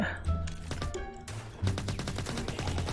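Rapid bursts of gunfire ring out in a Roblox zombie game, with a quick rattling string of shots over layered game sounds and music.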